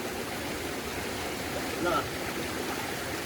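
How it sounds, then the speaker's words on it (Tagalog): A clean mountain stream flows steadily at a remote indigenous settlement, a soft continuous wash of water with a faint brief tone near the middle. "So itong sapa na to, napakalinis daw ho."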